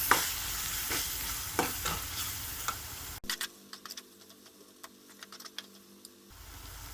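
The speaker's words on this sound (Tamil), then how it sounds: "இதை நல்லா வதக்கி விட்டுக்கலாம்" Tomato, onion and chilli-powder masala being sautéed in a pan for a village-style fenugreek kuzhambu, with steady sizzling and repeated scraping stirs of a spoon, close and fairly quiet, then a brief hush before the frying resumes.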